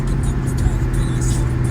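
A Dodge Dakota R/T engine drones steadily with a deep, loud rumble during a drive after a fuel pump replacement, sounding close with constant low throttle and no talking.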